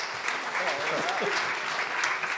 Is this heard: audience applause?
yes